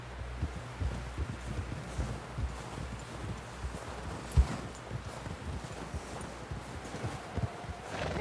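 Horse hooves in the video game Red Dead Redemption 2 clip-clop at a steady walking pace over outdoor wind and rustle, with one sharper thump midway.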